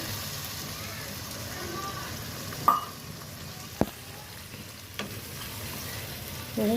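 Desi chicken pieces being sautéed with spices in a pan: a soft, steady sizzle with a few sharp clinks of a spoon against the pan, a faint voice in the background.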